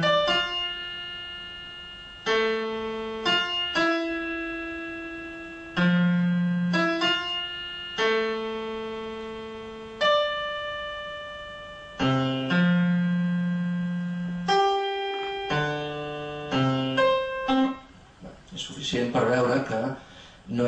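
Computer-generated random piano melody: single sustained notes at irregular, unpredictable pitches and intervals, each decaying before the next, with no repeating pattern, close and clear, ending in a brief denser cluster of sound.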